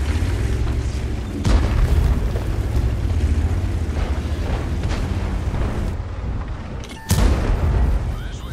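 Deep booming cannon shots from a 50TP prototype tank in the World of Tanks video game, with heavy rumbling blasts, a sharp loud shot near the end, and continuous engine and battle rumble underneath.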